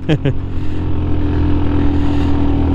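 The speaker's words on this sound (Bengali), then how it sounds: "আপনারা এখন শুনবেন ইঞ্জিনের গোংরানি।" On a hilly road on a bike tour from Dhaka to Sajek, a motorcycle engine strains loudly up a climb with a steady low drone and a wavering pitch, close to the rider.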